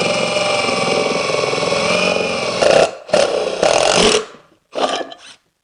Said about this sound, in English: we are actually going to drill a hole in it right through the dead center